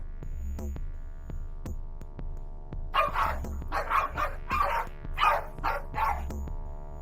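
Several Jack Russell terriers bark at a snake in a chicken coop, a run of sharp, excited, overlapping barks in quick bursts at close range after a few isolated clicks and knocks.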